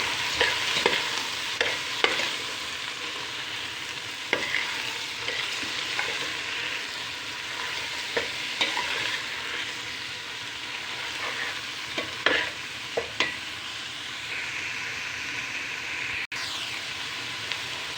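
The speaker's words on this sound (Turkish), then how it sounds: "Şimdi bunları karıştıracağız." Washed rice being stirred into leek soup in a pot: a continuous hiss with repeated scraping strokes of a spoon at an irregular rhythm, heard up close with no voices.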